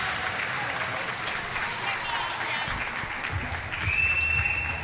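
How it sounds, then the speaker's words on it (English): Fans cheer and applaud at a National Ringette League game between Montreal Mission and Atlantic Attack, a steady crowd roar with clapping that swells near the end, with a commentator talking over it. "you can hear the fans cheering on Montreal"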